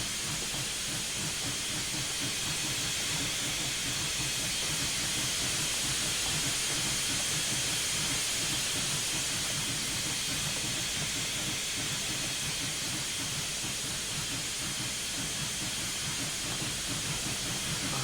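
A Union Pacific Big Boy steam locomotive in Train Simulator 2021 hisses steadily as it pulls out of the train yard, with a dense rhythmic chuffing beneath a constant broad wash of steam.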